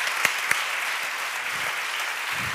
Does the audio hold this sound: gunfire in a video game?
no